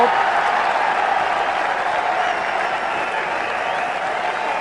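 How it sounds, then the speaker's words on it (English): A large cricket stadium crowd applauds a boundary shot, a broad sustained roar of clapping and cheering that holds steady and fades only slightly, with a commentator's voice faintly underneath. "The crowd love it."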